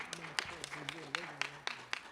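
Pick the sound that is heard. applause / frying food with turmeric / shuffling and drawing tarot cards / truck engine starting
applause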